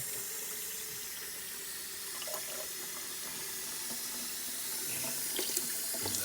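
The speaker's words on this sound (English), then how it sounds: "Get our cold water running here." Cold water runs steadily from a kitchen tap into a sink while butter made from whipping cream is rinsed of buttermilk, a continuous close hiss and splash with faint clinks and no talking.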